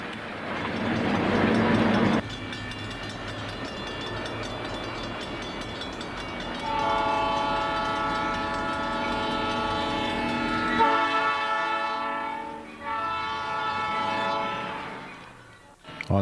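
Southern Pacific locomotive working slowly up a 3% grade on light-rail branch line track, with a steady engine rumble, rail clatter and a long sustained horn blast that comes and goes, heard from the cab.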